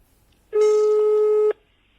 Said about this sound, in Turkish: Hadi bakalım arayalım Elif'e.